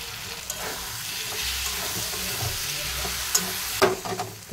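Masala paste and fried potatoes cook in a pan with a constant nearby sizzle, low rumbling bubbling, and a few clattering stirs of a utensil toward the end, with no speech.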